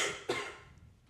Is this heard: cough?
yes